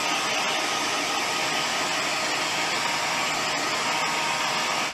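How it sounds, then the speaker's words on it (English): A blow dryer runs continuously at close range, a loud, steady roar of rushing air, used to dry oil paint weathering on a model. "there's no way I'm going to get the oil paint dry with a blow dryer inside of just a few minutes"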